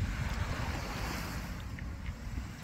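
Sea waves wash gently onto the shore under a steady rush of wind buffeting the microphone, fairly soft and continuous.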